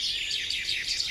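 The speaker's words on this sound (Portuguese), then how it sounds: "É verdade, é passarinho." Small bird chirping in quick repeated high tweets over steady soft background noise, fairly close and continuous throughout, with no talk.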